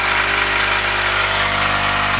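A modified 1.5 horsepower electric motor runs on 210 volts, giving a loud, steady, unbroken hum and whine at close range with no change in pitch.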